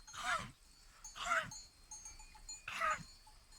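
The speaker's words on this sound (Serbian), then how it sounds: "Evo ovca kašlje" Three harsh, raspy coughs from a sheep, spaced about a second apart, moderately close in quiet outdoor surroundings.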